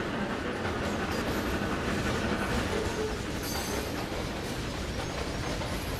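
A train passes on a railway in the Trainz 2022 simulator, a steady, close, full rumble with wheel clatter and faint high squeal running throughout, no voices.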